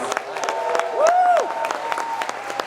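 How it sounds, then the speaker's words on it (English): Guests at a realtors' awards gala applaud in a hall, a moderate, steady run of clapping with scattered sharp claps and a whistle-like rising and falling tone in the middle. "Let's give them a strong round of applause."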